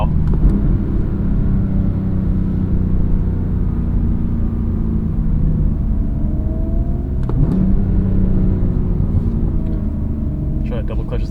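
A 2017 BMW M3 F80 engine rumbles loudly and continuously up close, with a rising rev sweep partway through as it accelerates hard.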